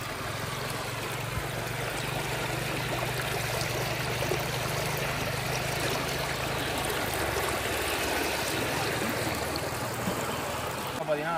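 River water flows at Pollachi with a steady, close rushing wash that carries on without a break from start to finish.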